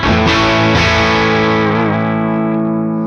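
A Music Man humbucker guitar runs through a Sleep Champion Horse Cult fuzz pedal, giving a loud, thick, distorted bass-heavy chord that sustains and slowly decays.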